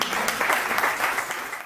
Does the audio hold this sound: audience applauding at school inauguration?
yes